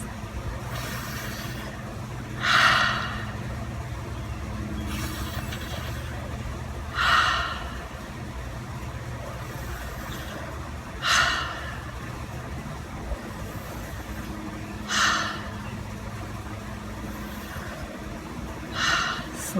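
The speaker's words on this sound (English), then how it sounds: "So inhale through the straw, exhale wide mouth." Yoga cooling breath: five slow, evenly spaced inhales drawn audibly through a curled tongue, each a soft airy hiss rising every few seconds, with gentle wide-mouth exhales and a low steady background hum between them.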